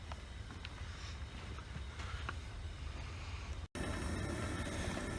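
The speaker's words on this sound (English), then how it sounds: "we have a south wind that picked up just a bit" A south wind gusts steadily across an outdoor microphone, a constant low rumbling buffet with a brief dropout near the end, no voices.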